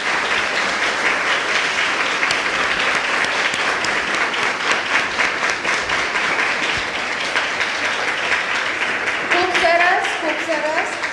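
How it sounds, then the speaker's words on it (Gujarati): An audience at a children's book-talk event gives loud, steady applause for the young presenters, with clapping throughout and a voice speaking over it near the end. "એક વખત તમારા બધા માટે તાળીઓ"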